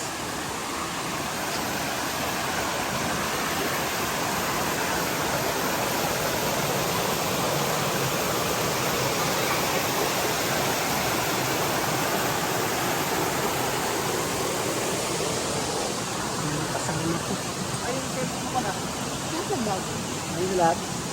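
Daranak Falls in Tanay, Rizal, pours as a steady, dense roar of falling water that fills the scene from start to finish, constant and fairly loud, with voices talking over it.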